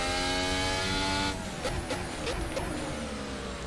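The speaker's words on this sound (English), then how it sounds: "Okay, so the car slides through there." A Formula 1 car in a racing game slides through a corner at Baku, its engine holding a steady high tone before breaking into choppy skidding and tire scrub, loud and close with no talk.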